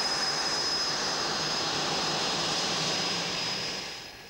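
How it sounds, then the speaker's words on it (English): A small aircraft taxiing out on a runway during test flying, a steady engine drone with a high whine that stays loud and close throughout, then eases off slightly at the end. "As Jim taxis out"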